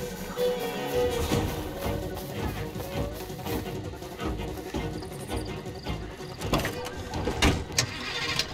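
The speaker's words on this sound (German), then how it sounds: "Warten Sie da, ich hole mein Auto." A car in Far Cry 2 drives up through the African countryside, its engine rumbling and shifting in pitch with bumps and rattles, and sharper knocks near the end.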